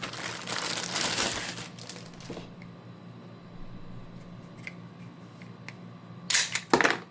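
Plastic and cardboard packaging crinkling and tearing as a new Ruger RXM 4-inch polymer-framed 9mm pistol is unboxed, with loud rustling at the start, quieter handling through the middle, and a few sharp crinkles near the end.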